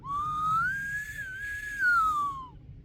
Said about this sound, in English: And that's the olive whistle, just for comparison.